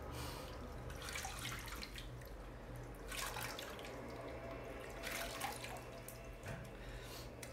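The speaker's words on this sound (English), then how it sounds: "leaning over the sink and splashing the water onto my face" Water splashes onto a face over a sink, with soft repeated bursts of splashing and dripping in a few rhythmic waves, close but faint.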